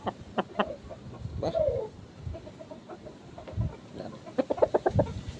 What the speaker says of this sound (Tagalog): Gandang manok, oh.